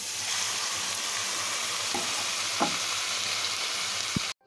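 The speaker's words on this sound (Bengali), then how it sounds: "ভালোভাবে একটু নাড়িয়ে নেব ভাজা ভাজা হয়ে গিয়েছে এবার গোবিন্দভোগ চালটা এর মধ্যে দিয়ে দেবো" Gobindobhog rice and moong dal fry in a pan with a steady, close sizzle, broken by a couple of soft stirring scrapes, then a brief knock before it cuts off.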